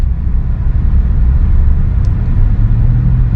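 A Honda Jazz GK engine roars steadily through an AZC titanium exhaust tip. The deep, loud rumble holds close and continuous throughout, with no voices.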